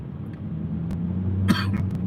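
A single short cough sounds up close over a low steady hum of background noise, with a few faint clicks around it.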